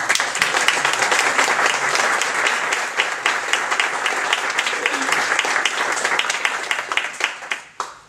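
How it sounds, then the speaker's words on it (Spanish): An audience at a language and bilingualism event applauds after a short-story prize announcement, sustained dense clapping that fades toward the end with a few last claps, with some voices faintly underneath. "Creo que merece la pena y un aplauso para él"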